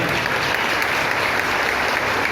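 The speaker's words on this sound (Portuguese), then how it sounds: "uma salva de palmas para eles aí" Audience applause at an evening parish feast event for Saint Joseph in Brazil, a dense, loud, continuous round of clapping filling the whole short stretch.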